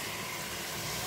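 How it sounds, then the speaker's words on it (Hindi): Cubed potatoes sizzling as they go into minced meat frying in a pan, a steady hissing fry heard alone, with a brief clatter at the very end. "ये जो हमने आलू चकोर पीसेस में काट के रखे थे ये इसके अंदर जाएंगे, इसको हम अच्छी तरह से भून लेंगे"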